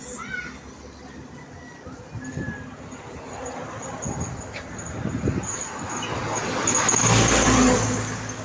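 A jeepney drives past on a road, its engine growing from a distant rumble to a louder, closer roar before fading slightly, amid outdoor street noise with people talking.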